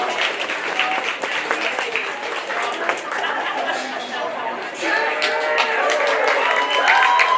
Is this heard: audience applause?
yes